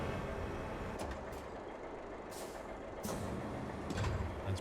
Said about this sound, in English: Maybe I'll just carry that truck with those 2 trucks with this crane.